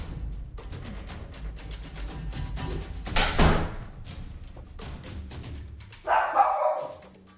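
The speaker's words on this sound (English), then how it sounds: "When a black object flies across the doorway and lands with a thud, loud enough to upset Terry the dog." A dull thud is followed by a dog barking, with a couple of short barks near the end, indoors and fairly close.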